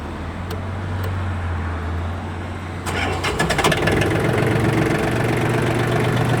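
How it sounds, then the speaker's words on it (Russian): A Yanmar F18D Japanese mini tractor's small diesel engine cranks over with a low hum, then catches and settles into a loud, rough, knocking idle up close. "Давайте запустим, послушаем двигатель и посмотрим на двигатель."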